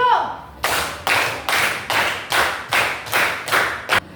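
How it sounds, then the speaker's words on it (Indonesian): A classroom of students claps together in a rhythmic counted clap, sharp unison bursts spaced evenly about every half second after a brief spoken call from the teacher. "Beri tepuk tangan 10."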